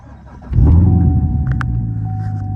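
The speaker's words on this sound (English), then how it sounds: "Let me turn the car on." A car engine turns over and catches at about half a second, then settles into a steady low idle rumble, close by.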